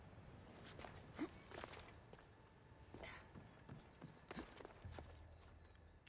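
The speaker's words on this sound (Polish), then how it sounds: "Jest koń." Horse hooves clip-clop in the video game Assassin's Creed Odyssey, a few faint, irregular thuds of a horse stepping slowly rather than trotting, with low background ambience and no talking.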